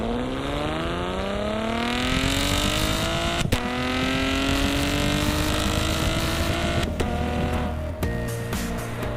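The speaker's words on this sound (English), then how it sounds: "unexpectedly vicious exhaust note, particularly during full-throttle gear changes" A 2017 Chevrolet Camaro's 3.6-liter V6 exhaust snarls loudly through full-throttle acceleration. The pitch climbs steadily with sharp breaks at each gear change, and the engine sound carries on without pause.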